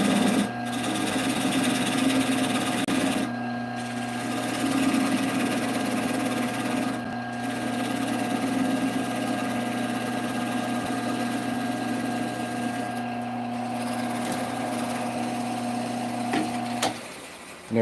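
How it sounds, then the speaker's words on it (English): A woodturning lathe runs with a steady, humming motor drone and faint tonal whine, then is switched off near the end, the hum dropping away abruptly. "switch off the lathe with my other hand"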